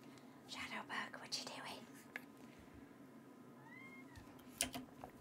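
A house cat meows softly a few times close by, the cries brief and rising, while a person whispers and murmurs over a quiet indoor background hum.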